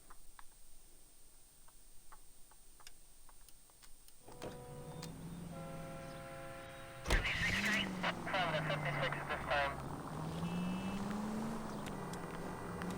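A car in L.A. Noire starts up after quiet ticking. A steady engine hum follows with a shifting pitch, plus a sharp thump and scattered rattles as the car drives off.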